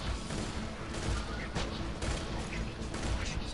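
Enemy gunfire in the shooter Borderlands 2, a dense, continuous barrage of overlapping shots and booms that fills the whole stretch at fairly close range.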